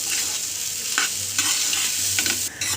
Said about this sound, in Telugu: నూడిల్స్ అన్నీ వేసేసుకున్నాక ఒకసారి కలుపుకుందాం